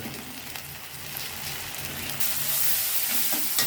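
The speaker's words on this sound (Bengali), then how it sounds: "এভাবে কিছু সময় রান্না করে আমরা এটাতে চিংড়ি মাছ দিয়ে দেব দিয়ে দিলাম চিংড়ি মাছগুলা" Shrimp fry with salt and spices in a pan alongside taro leaves, giving a steady, dense sizzle that swells louder and brighter partway through, with no voices.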